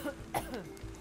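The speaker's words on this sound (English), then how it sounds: "Oh no, not the coughing." A villager coughing in the video game Virtual Villagers, a couple of short, faint coughs and throat-clearing sounds against a quiet background.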